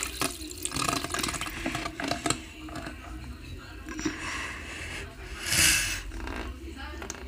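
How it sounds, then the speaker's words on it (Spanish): Water splashing in a swimming pool as someone jumps in, a continuous sloshing wash with a louder splash burst near the end, heard under children's voices and background chatter. "Me tiro a la piscina."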